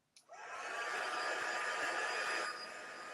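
Heat tool switched on with a click and blowing a steady loud whoosh over a handmade card in a cardmaking session, running about two seconds before easing down, with no talk.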